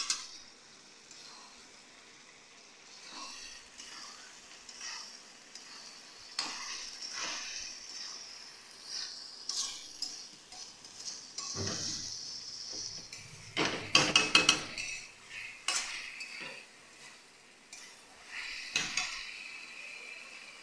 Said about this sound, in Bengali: এবারে মাংসটাকে দিয়ে ভালো করে কষে নিতে হবে